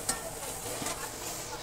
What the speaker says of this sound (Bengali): লুচি আমাদের ভাজা প্রায় অর্ধেকও হয়নি